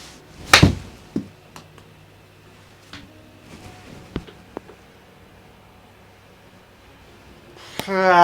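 A golf club strikes a ball on a 100-yard wedge shot with a sharp, near thwack early on, followed by a few fainter knocks and rustles outdoors.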